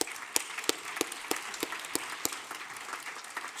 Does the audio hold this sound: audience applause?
yes